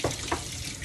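Tap water runs into a sink at home while warming up, a steady close hiss with two brief splashy bursts near the start.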